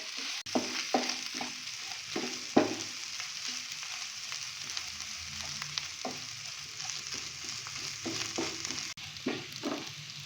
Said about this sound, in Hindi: सूजी अच्छे से भुन चुकी है और घी छोड़ रही है